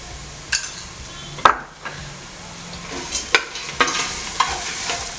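Gongura mutton curry fries with turmeric, chilli powder and salt, sizzling steadily while a spoon stirs and knocks against the pan in several sharp scraping strokes.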